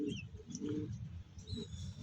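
Pigeons in a home loft give soft, repeated low coos with a few faint higher chirps, quiet and close.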